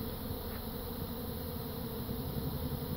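A large honeybee swarm drones in a thick, continuous buzz that holds steady and fairly loud outdoors, with no voices.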